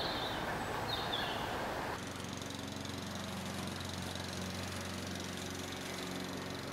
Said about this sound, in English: This is the moment when the automower meets the motor mower.